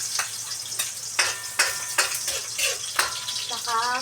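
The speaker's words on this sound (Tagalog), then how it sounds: "magigisa na si ate ko ng bawang at sibuyas." Garlic and onion sizzle in a hot pan while a utensil stirs and clinks against the metal, a steady frying hiss with repeated sharp scraping taps close by.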